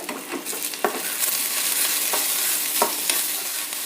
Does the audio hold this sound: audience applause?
no